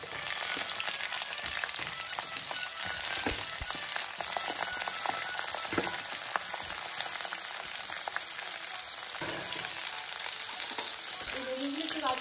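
Eggplant pieces frying in a hot pan, a continuous crackling sizzle with scattered pops and occasional stirring clatter, steady and close throughout.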